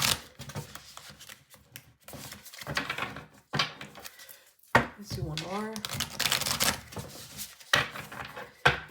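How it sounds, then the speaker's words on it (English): Tarot cards are shuffled by hand in repeated quick riffles and taps, close and fairly soft, while a voice speaks briefly partway through. "I'm just gonna give it out a good shuffle."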